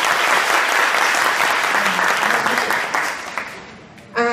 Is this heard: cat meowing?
no